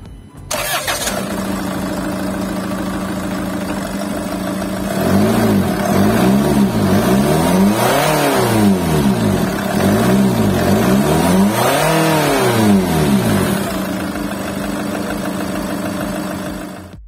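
A Land Rover Discovery diesel SUV engine cranks and starts, then settles into a steady, close idle with a few mid-clip revs rising and falling before easing back.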